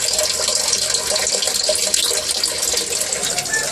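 Filtered water from plant beds flowing back into an aquaponics fish tank, a steady close splashing trickle that stays constant throughout, with no speech over it.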